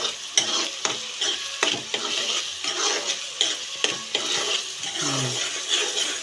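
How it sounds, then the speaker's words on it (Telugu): Onions fry in a pan while a utensil stirs them, with repeated sharp scrapes and knocks against the metal over a continuous close sizzle and no voices. "ఉల్లిపాయలు మగ్గుతున్నాయి ఇది ఏ కలర్ రావాలి ఏదో కలర్ వచ్చేదాకా అయితే చూసుకోవాలి అలా తిప్పుకుంటూ ఉండాలి"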